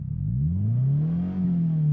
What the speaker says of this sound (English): Just look to this engine purr.